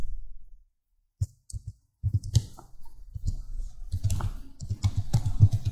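A strategy name typed on a computer keyboard, with a few isolated key clicks followed by a burst of quick, close keystrokes.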